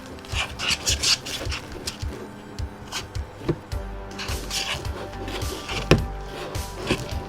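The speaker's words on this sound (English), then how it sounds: "I'm just gonna keep stirring and hopefully it'll turn good." Glow-in-the-dark slime is stirred fast in a bowl, giving irregular rubbing and scraping strokes with occasional sharper knocks, close and moderately loud.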